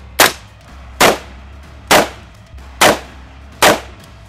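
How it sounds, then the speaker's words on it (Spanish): Five loud, sharp gunshots ring out at an even pace, about one per second, during Spanish military shooting training in Poland, each with a brief decaying tail and no talk between them. "5 disparos."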